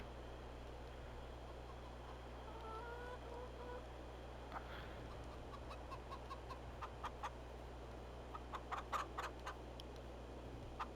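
Chickens cluck in Farming Simulator, soft and somewhat distant, with a quiet run of clucks midway and a busier burst of sharp clucks toward the end over a steady low ambient hum.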